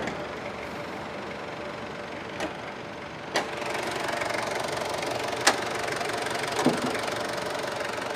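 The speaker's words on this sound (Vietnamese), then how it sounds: "cục máy khá là êm nha, máy móc là bao thê luôn" A 2007 Ford Everest's turbo diesel engine idles in a steady, smooth hum with a few brief sharp clicks, heard alone at moderate level.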